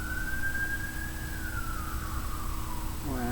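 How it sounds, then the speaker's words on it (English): An ambulance siren wails through city streets in Calgary, one long sliding tone falling in pitch as it passes at moderate distance, over steady traffic rumble. "More ambulances."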